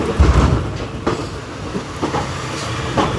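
A passenger train pulling into Villupuram Junction: a deep rumble with rhythmic wheel clatter, heard from on board and loud, with no voices.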